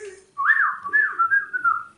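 A person whistles a bird imitation, a sliding warbling call with rising and falling trills, close and fairly loud, alone.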